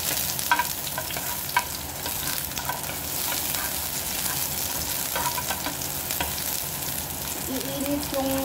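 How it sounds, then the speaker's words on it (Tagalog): Garlic and onion frying loudly in a hot pan for an upo and sardine dish, a dense continuous sizzle with scattered stirring scrapes and a short rising tone near the end, no talk. "pwede na natin ilagay yung bawang at saka sibuyas."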